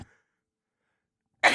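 One person sneezes, a sudden, fairly loud burst arriving after a short breathy intake and a moment of near silence.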